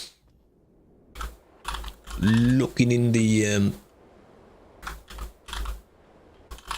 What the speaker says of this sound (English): Started typing before I was fully logged in.